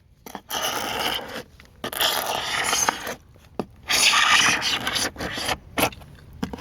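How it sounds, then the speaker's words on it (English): A sharp carbide hook scraper is pulled over painted house wood, shaving the paint in repeated rasping strokes of about a second each, separated by brief pauses. "here we're using the Carbide scraper. It's very sharp. So you can see how it just shaves the paint down."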